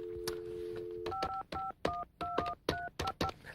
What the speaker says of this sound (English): Just call up the internet service provider now